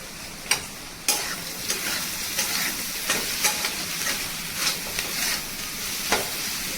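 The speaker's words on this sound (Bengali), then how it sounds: "এবার এগুলো একটু ভাজা ভাজা হয়ে গেছে" Mixed vegetables for street-style chowmein fry in a pan with a steady close sizzle, punctuated by about a dozen sharp spatula taps and scrapes at irregular intervals, with no talking.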